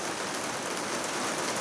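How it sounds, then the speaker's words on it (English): Steady rain falling outdoors as white flecks come and go, a dense even hiss of drops with no pauses and no voices. "it's just rain"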